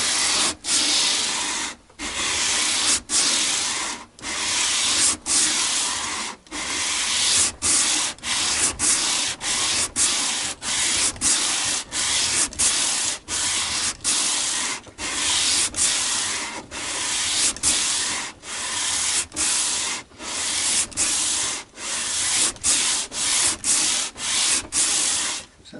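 Rhythmic scratchy sanding strokes rasp back and forth against the wooden body of a travel guitar being built, loud and close, with brief pauses between passes.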